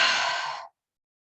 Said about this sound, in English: a big inhale through the nose, and we'll take a big exhale through the mouth